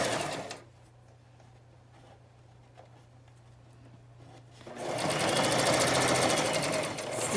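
A domestic sewing machine zigzag stitches a tiny rolled hem, first a brief whir, then a quiet stretch with a low hum, then a loud, fast, steady rattling run of stitches close by.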